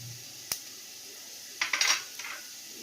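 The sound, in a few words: cumin seeds added to the pan with fried potatoes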